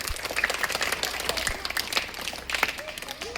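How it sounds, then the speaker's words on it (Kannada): Audience clapping at a school learning-festival felicitation honoring a teacher's honorary doctorate, a lively patter of many hands, moderately loud and continuous, with some voices mixed in. "ಎಲ್ಲರೂ ಚಪ್ಪಾಳೆ ತಟ್ಟಬೇಕು"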